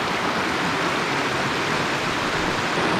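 Steady broadband rush of flowing water on the Devil's River in a Texas canyon, a continuous, fairly close wash with no voices and no breaks.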